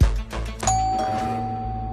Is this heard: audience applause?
no